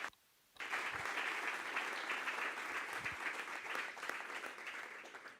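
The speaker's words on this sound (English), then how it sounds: "let's give it up, a round of applause" Applause from a summit audience starts abruptly after a brief quiet moment, then holds as a steady, full round of clapping that tapers only slightly toward the end.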